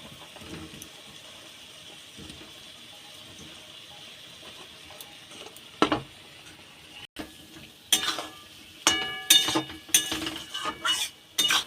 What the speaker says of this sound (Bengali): এবার ভেজে রাখা আলুটা দিয়ে আরেকটু ভালো করে কষিয়ে নেব।